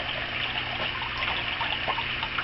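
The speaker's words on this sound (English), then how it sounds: "now that the water is flowing decently" Water runs steadily over a shaking table used for concentrating galena ore, a continuous close rushing and trickling wash that holds level throughout with no voices.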